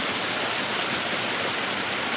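Pugisi River flowing water, a steady dense rushing wash, close and continuous, with no voices.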